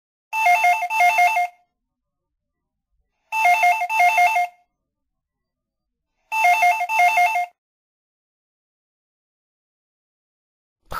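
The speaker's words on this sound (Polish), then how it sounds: "Dźwiękiem nieznośnego telefonu." An old-style telephone bell rings in three loud, evenly spaced double bursts with silence between them, clear and alone with no voices.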